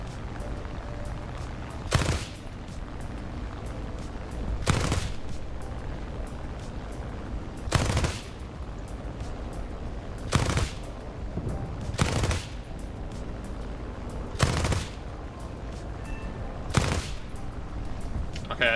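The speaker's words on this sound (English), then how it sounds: "I think I was shooting too high" Aircraft machine guns in War Thunder firing in short, separate bursts about every two to three seconds over a steady engine drone, moderately loud.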